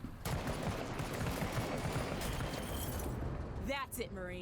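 Marines' gunfire in the turn-based tactical game MENACE, a dense sustained burst of shots and blasts that cuts off near the end, followed by brief whooshing game effects.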